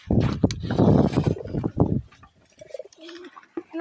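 Pigeons cooing up close, with deep throaty rolling coos in the first two seconds, followed by quieter softer calls and faint chirps.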